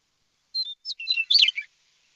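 Clear, close bird calls captured with a recorder aimed at the target species: a few short chirps and whistled tweets in a quick sequence of about a second, alone against a silent background.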